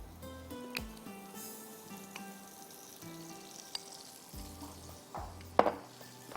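Butter melts and sizzles in a pan on the stove, a soft steady crackle with occasional clinks of utensils against the pan.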